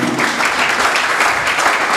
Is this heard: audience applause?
yes